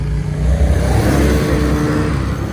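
A vehicle drives slowly through a forest, producing a loud, steady, close engine rumble with slight swells in revving that continue throughout without pause.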